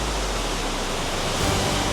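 A monsoon waterfall in Odisha pours down in several separate streams, a dense, steady roar of falling water close by that fills everything with no pauses.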